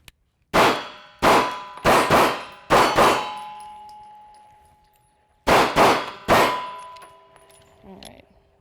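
Several M&P Shield 9mm pistol shots at an outdoor range, each followed by a bright metallic clang and ringing decay from steel targets, fired in quick groups of one to three, loud and close, with no talk.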